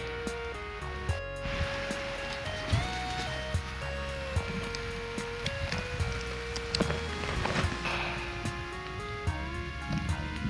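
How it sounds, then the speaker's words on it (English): Rain beginning to fall outdoors, a soft, steady patter running throughout and mixed with sustained tonal background sounds and occasional knocks, with no voices. "It's now beginning to rain"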